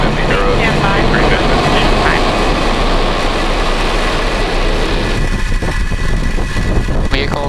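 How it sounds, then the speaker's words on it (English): A SpaceX Falcon 9 rocket ignites and lifts off, a loud, dense, steady roar filling the whole stretch, with a faint voice under it near the start and near the end. "Ignition and liftoff. We have Falcon 9 and the EROS C-3"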